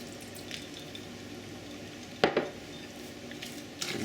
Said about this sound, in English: we'll just mix this in until it's to the consistency that I want